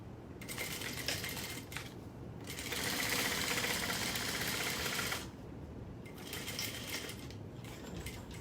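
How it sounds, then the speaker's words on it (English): Sewing machine top stitching a quarter-inch seam along a bottom panel, a steady fast mechanical whirr running in bursts with brief pauses, loudest in a long central stretch, close and clear. "Pushing that seam allowance down so it's pointing towards the bottom panel. 1/4 of an inch, top stitch it."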